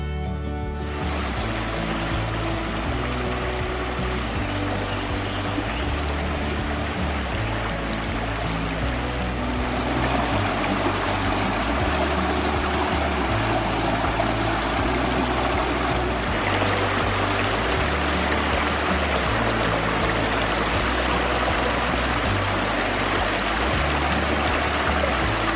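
A flowing stream at a water source beside a hiking trail near a river, a steady broad rush of water heard close and continuous, with a faint low rhythmic hum underneath.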